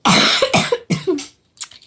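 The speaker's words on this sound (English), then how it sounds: "I'm coughing because I have a little bit of a cold" A person coughs close up, three or four harsh coughs in quick succession followed by a short quieter one.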